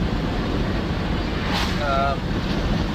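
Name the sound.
ocean waves on the Alaskan coast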